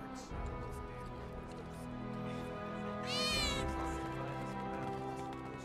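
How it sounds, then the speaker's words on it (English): Cats meow in Final Fantasy 7 Remake: a clear, rising cat call rings out near the middle over quiet game background music, with fainter mews around it. "I'm looking for cats. They're friendly, so if you call them, they'll come running, all three of them."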